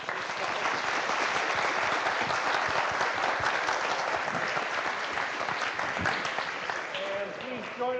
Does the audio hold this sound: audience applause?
yes